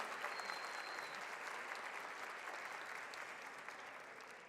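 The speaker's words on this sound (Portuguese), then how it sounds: "pedindo também uma salva de palmas para cada mulher, para cada pessoa que está aqui hoje" Sustained applause from an audience at a celebration of the 91st anniversary of women's right to vote, steady dense clapping throughout with no voices over it.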